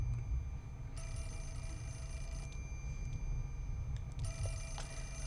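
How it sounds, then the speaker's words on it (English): A telephone rings in the Fatal Frame IV: Mask of the Lunar Eclipse video game, giving a few faint, repeated electronic rings spaced about a second or more apart over a low background hum. "we can't just let the phone ring. We better answer it."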